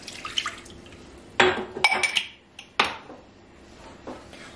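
Milk, about one and a half glasses, splashes into a pan of cooking spinach and pasta, with a few sharp liquid bursts and clinks of the pan, close and moderately loud, without talk.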